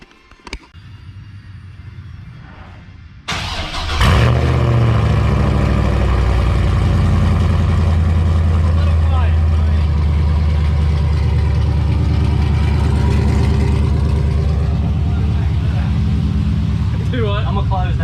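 A car engine fires from cold with a sharp catch, then roars into a loud, sustained idle through an exhaust cutout, deep and rumbling near the microphone.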